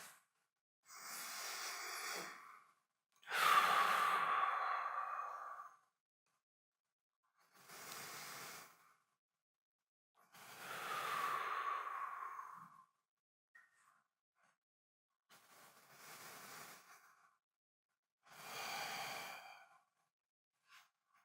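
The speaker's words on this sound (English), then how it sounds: "So there's a Sufi practice where you hug and you match breathing." Two people hug and breathe together in a Sufi practice, with slow, audible inhales and long, sighing exhales repeating about every three seconds, close and soft against silence.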